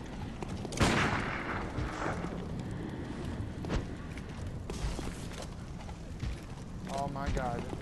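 Gunfire in the video game Bloodborne: several loud sharp shots burst out amid busy game sounds and music, with a further crack and a ringing tonal effect near the end.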